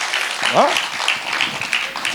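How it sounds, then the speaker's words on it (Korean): Audience applause at a lecture on Korean democracy, a steady wash of clapping across the whole stretch with a brief raised voice or shout rising through it early on. "박수 한번 쳐주세요."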